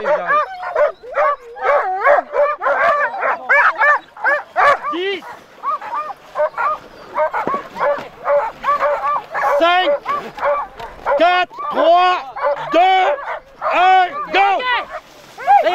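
Dogs yip, whimper and bark in dense, rapid bursts close by, high excited cries overlapping for a long stretch in a mountain village setting.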